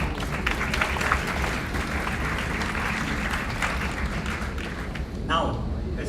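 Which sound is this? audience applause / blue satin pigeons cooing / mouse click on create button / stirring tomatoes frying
audience applause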